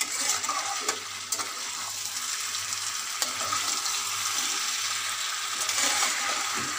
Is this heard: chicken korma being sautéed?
yes